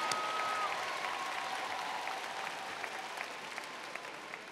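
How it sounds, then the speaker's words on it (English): A large crowd at a high school graduation applauds the class of 2018 in a steady, dense roar of clapping that holds for several seconds, slowly thinning toward the end, with a faint tone running underneath. "Give them a big round of applause."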